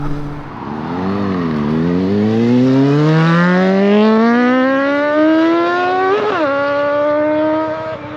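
A Triumph TT600 sport motorcycle engine revs steadily upward while riding, its whining harmonics climbing through the gears with a brief dip and shift near the end, loud and close with no talk.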